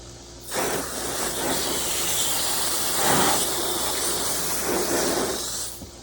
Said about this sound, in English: I'm gonna give it a little rinse to get some slime off.